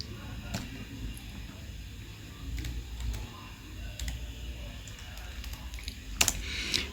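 Keys clatter steadily on a computer keyboard while data is entered into an Excel spreadsheet, a soft irregular run of close taps over low room hum, with a sharper cluster of clicks near the end.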